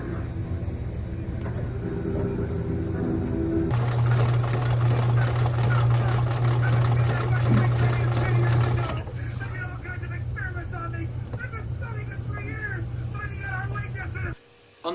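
A sewing machine stitches hammock fabric with a steady rapid mechanical whir that runs loud for several seconds over a constant hum, then stops while a person talks and a cat meows in the background.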